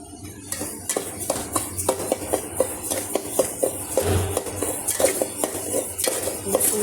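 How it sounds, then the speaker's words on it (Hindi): A spoon scrapes and clinks steadily against a pan as semolina is roasted and stirred for halwa, sharp rhythmic metal strokes up close, with no talking. "और अब मैं भून रही हूँ सूजी।"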